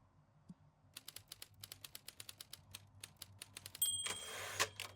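Typewriter keys clack in a steady run of single strikes in the video game Before Your Eyes, ending in a louder burst of clatter and a carriage-return ding, over a low ambient hum.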